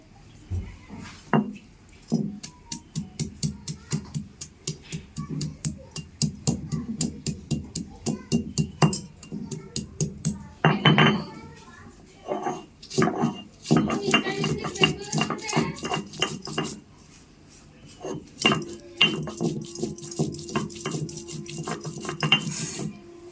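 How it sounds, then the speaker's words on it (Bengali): Ginger is ground into a paste on a grinding stone, giving a near, rhythmic run of knocking and scraping strokes in quick bursts with brief pauses between them. "দেখুন এবারে আদাটাকে বাটি"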